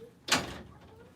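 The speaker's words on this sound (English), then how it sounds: "No, no, no, don't open that door." Someone trying to open a door produces a single brief, faint knock or rattle against the door in a quiet room.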